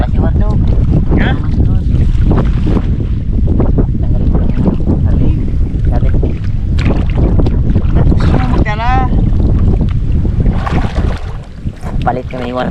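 Strong wind buffets the microphone in a constant roar, with voices faintly talking underneath.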